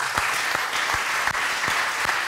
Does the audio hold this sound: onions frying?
no